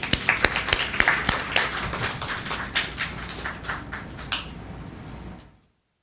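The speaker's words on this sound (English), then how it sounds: "So with a round of applause," Sparse clapping from a small audience at a free poetry reading event, starting with a few sharp close claps and thinning into scattered taps before stopping abruptly.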